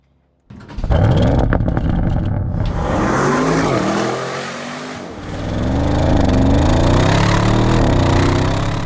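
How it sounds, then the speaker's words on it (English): Audi RS6 Performance V8 engine starting in its loud start mode: a sharp cranking catch and roaring flare-up, then a loud, deep, burbling idle that dips briefly and swells again, close and alone. "What a great first impression this car makes every time you start the engine in that lovely, specific loud start mode in dynamic mode."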